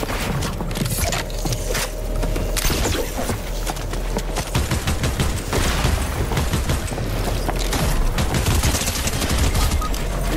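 Dense, nonstop gunfire crackles through a Fortnite Ranked Reload firefight, with many overlapping shots and impacts piling up at a steady loud level and no voices.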